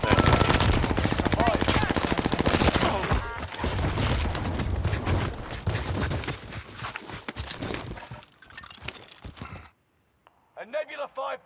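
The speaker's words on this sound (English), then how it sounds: "Taking heavy fire." Heavy automatic gunfire rattles in dense, sustained bursts during a Call of Duty Warzone match on Caldera, loud and close. It thins into scattered shots before a brief silence, and a voice talks over the action.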